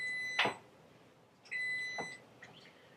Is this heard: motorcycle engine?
no